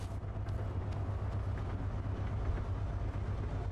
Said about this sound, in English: Trains coming back around already.